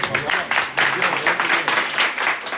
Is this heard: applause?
yes